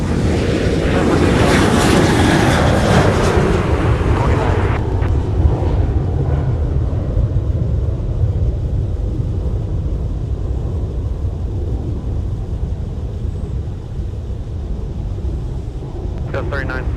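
A jet airliner rolls and climbs away from runway 30 left at Minneapolis–St. Paul on a winter day, a loud, steady roar that fades slowly as it departs, with wind buffeting the microphone.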